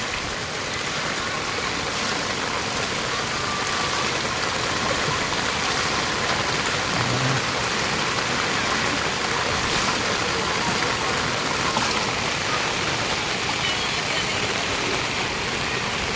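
Floodwater rushes down a street in Southville 8B like a river, a steady loud broadband roar of flowing water filling the scene without letup, with a faint voice now and then.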